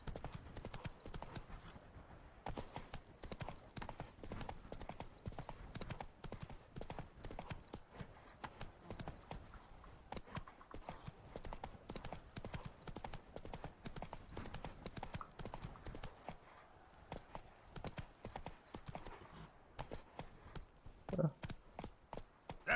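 Roach the horse trots along in The Witcher 3, hooves clip-clopping in a steady, dense rhythm throughout, with an occasional whinny and no talk over it.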